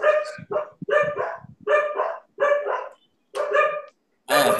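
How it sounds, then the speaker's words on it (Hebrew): A dog barks repeatedly in a quick irregular series of sharp, fairly loud barks with short gaps, heard clearly with no talking over it. "יש פה מישהו עם כלב, אני חושב."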